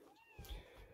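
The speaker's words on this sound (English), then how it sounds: "meowing because she wants to get outside" An indoor cat lets out one short, faint meow at the door, wanting to go outside.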